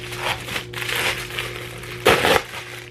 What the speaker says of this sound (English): I have one more package to open. I don't need scissors for it.